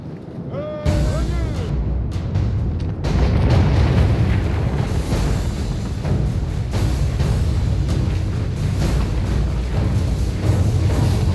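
Musket volleys crack out across a Medieval II: Total War battle between Russia and France in the Swiss Alps, a dense roar of repeated firing and battle din that stays loud and continuous throughout.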